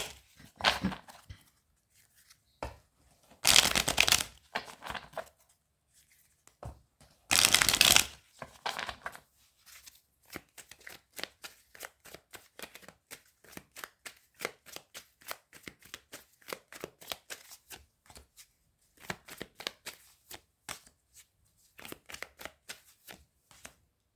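A deck of tarot cards is shuffled by hand: two longer riffling bursts near the start give way to a long run of quick, soft, close card slaps and flicks in irregular rhythm, with no talk.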